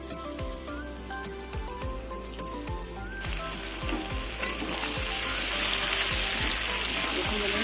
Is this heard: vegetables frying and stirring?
yes